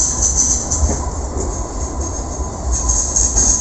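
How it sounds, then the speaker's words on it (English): A Sydney light-rail tram runs along a former street near Central Station, giving a steady close rumble of wheels on rail with a thin, high metallic squeal held over it throughout. "Here's the tram,"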